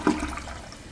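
A toilet in a three-story building gives a short, loud rush of flushing water that quickly settles into a steady, softer trickle.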